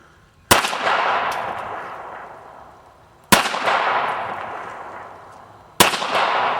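Three loud, sharp pistol shots from a Springfield Armory Mil-Spec 1911 in .45 ACP fitted with a DPM recoil system, evenly spaced about two and a half seconds apart, each followed by a long echoing decay of an outdoor range.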